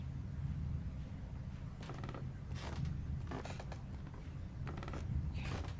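In the video game Little Nightmares, a door creaks in several drawn-out, wavering squeals over a steady low rumble, with no talking.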